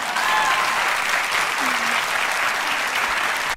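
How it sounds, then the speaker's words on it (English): A talk show studio audience cheers and applauds loudly, a dense continuous clapping and whooping that fills the whole clip without a break. "that is so corny, the cheering all together"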